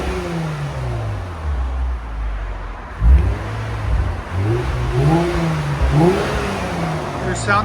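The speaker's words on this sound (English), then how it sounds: "So I'm going to go ahead and open them now." Lexus IS 350 with a 3.5L V6 and Valvetronic exhaust valves open, idling low and then blipped through several sharp revs that rise and fall, loud and close, with someone talking over the engine.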